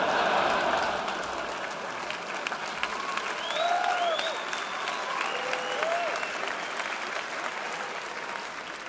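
A large audience applauds at a stand-up comedy show, steady dense clapping that holds evenly, with a few whoops and cheers rising above it.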